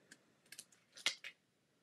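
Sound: trimming the edge off a paper card

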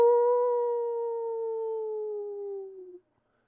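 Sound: howl of a death dog in a comic adaptation

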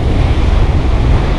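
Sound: wind on a beach at low tide

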